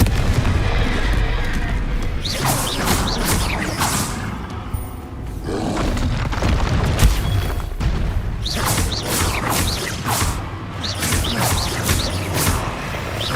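Repeated Confringo explosive spell blasts in Hogwarts Legacy, loud booming bursts recurring every few seconds over a churning roar of combat noise.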